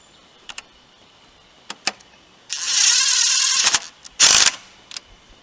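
A ratchet tightens the nut on a belt tensioner arm in a car engine bay, giving a few short clicks and then two bursts of rapid, loud ratcheting close by, with no voices.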